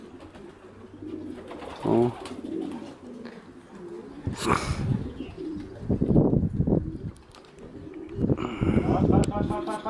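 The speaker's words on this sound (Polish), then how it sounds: "Przez cały czas pojedynczo przychodzą gołębie." Racing pigeons arrive at a loft in Czersk during a race, cooing softly and fluttering their wings in short bursts, while someone talks over the nearby bird sounds.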